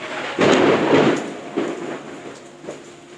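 Rumbling thunder from a storm, with a loud, broad roll near the start, then a second softer peal and a faint later rumble, heard on its own with no talk.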